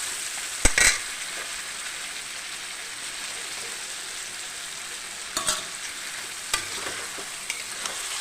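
Chicken with masala stirred in a frying pan gives a steady soft sizzle throughout, with a few sharp scrapes of a spoon against the pan, mostly quiet and without talk.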